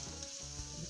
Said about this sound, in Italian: Lasciamo soffriggere.